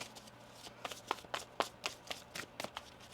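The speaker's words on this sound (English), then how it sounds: "One more shuffle." Tarot cards being shuffled by hand, a quick run of crisp riffling snaps and soft slaps at a close, quiet level, with no voices.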